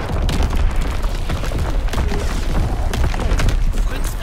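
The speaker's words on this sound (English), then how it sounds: "Firing primary battery." Primary battery artillery firing in a WWII Call of Duty game at Sainte-Marie-du-Mont, dense continuous booms and rumbling blasts layered with crackling gunfire, loud and relentless.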